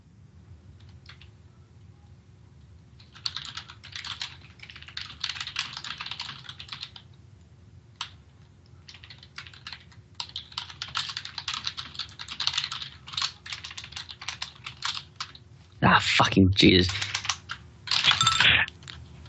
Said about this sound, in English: I was wondering what you were typing.